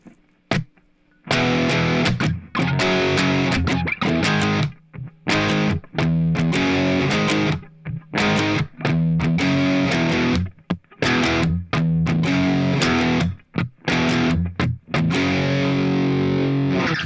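Heavily distorted electric guitar plays the chorus of a song, loud chugging power chords and runs in a driving rhythm broken by short choppy stops, with no voice over it.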